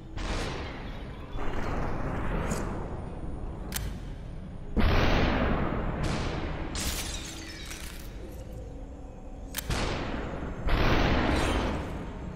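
Gunfire in the video game Superhot: a series of loud, sharp blasts with shattering, glassy crashes, several distinct bursts spread across the stretch, each followed by a decaying roar.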